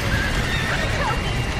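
A horse in the Red Dead Redemption video game neighs faintly through a dense wash of game noise and background clatter, a thin whinny buried under the mix.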